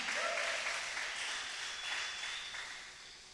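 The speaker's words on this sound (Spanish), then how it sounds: "Denle un aplauso a Dios." A church congregation applauds to God during a sermon by Pastor Jesus Gutierrez, the clapping soft and distant, a steady wash that gradually fades out.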